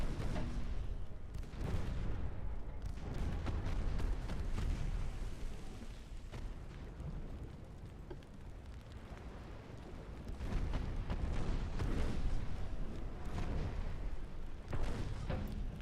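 Repeated heavy naval gun salvos booming from warships in Ultimate Admiral Dreadnoughts, firing on unarmed transports, a dense rumble of blasts and explosions rolling continuously at steady loudness with no talk.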